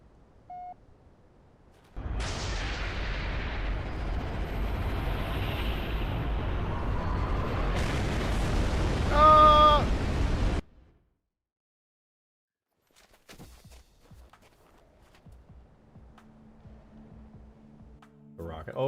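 A rocket in Halo 3 roars as a loud, steady rushing blast for about eight seconds, rising into a brighter fizzing burst that cuts off sharply. Silence follows, then faint scattered clicks and beeps.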